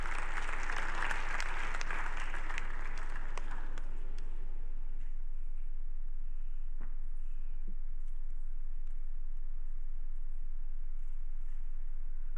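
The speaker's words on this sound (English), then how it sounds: "A round of applause as they come." A crowd applauds at the opening ceremony of Ghana Digital Innovation Week, dense clapping for about four seconds before it fades to a quiet room with a few stray claps.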